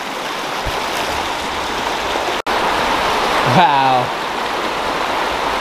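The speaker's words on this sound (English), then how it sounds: "Encountering some rapids." Stream rapids rushing through a narrow canyon in Zion National Park, a loud steady broadband roar of water throughout, with a brief voice exclaiming over it near the end.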